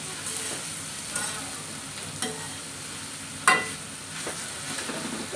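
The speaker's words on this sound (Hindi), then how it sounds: "इसको अच्छे से फ्राई करना होगा। तो एक बार चला देते हैं" Raw papaya frying in a pan while being stirred, with a steady soft sizzle and a few scraping stir strokes rising over it, close by and moderately quiet, no talk.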